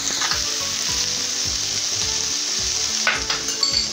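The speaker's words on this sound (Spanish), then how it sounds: "Vamos a proceder a ponerle el tocino ahumado." Smoked bacon sizzles in a pan with garlic, onion and ají chili pepper, a steady close frying hiss broken by repeated stirring scrapes, with no voices.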